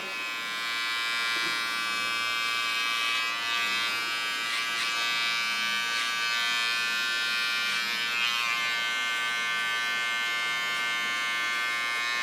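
A handheld electric hair clipper buzzes steadily and fairly close while trimming the outline of a short pixie haircut, a continuous high whine with small flutters as the blade works along the hairline.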